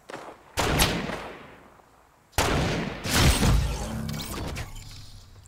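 Gunfire from a weapon in the mobile version of Fortnite: two sharp, loud bursts, each decaying into a rumbling tail, the second followed by further crackling shots and debris noise, no speech.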